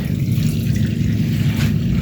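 Water runs from a homemade tap, a close, loud, steady rushing flow with no talking.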